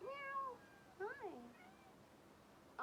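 A cat gives two distinct meows, the first drawn out and the second rising and falling, close but quiet against faint background hiss.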